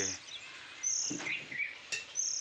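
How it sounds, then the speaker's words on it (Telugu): A tiny baby bird chick kept in a bucket near a temple wall under construction gives a few thin, high, faint chirps, spaced apart against quiet background hiss. "ఒక చిన్న పక్షి పిల్ల"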